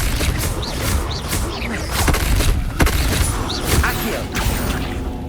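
Expelliarmus spell effects in the wizarding game Hogwarts Legacy: repeated magical blasts, booms and crashing impacts over a dense, roaring combat backdrop, with several sharp hits spread across the stretch.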